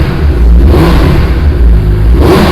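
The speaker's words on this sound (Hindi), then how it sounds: "एग्जॉस्ट सुन लेते हैं।" A 2021 Suzuki Hayabusa motorcycle exhaust revs up close and loud, a steady throaty roar that swells and eases over a couple of seconds with no talking.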